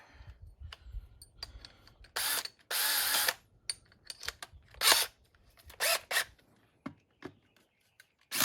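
A drill with a half-inch bit runs in short, loud, intermittent bursts with quiet gaps between, during a power steering conversion on a 1962 C30.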